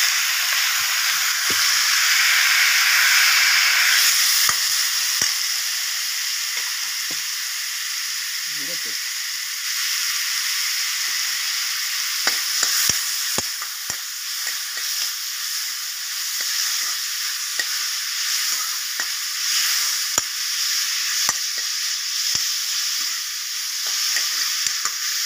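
Chopped onions and four ripe tomatoes sizzle steadily in a pan for Kalyana Veetu thakkali kootu, a constant frying hiss broken by spatula scrapes and stirring clicks.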